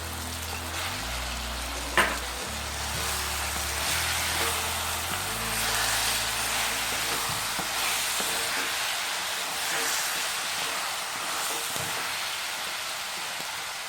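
Spice paste of ginger, garlic, cumin and coriander frying with turmeric in a seasoned clay pot, a steady close sizzle with a soft hiss running throughout and a brief clack near the start.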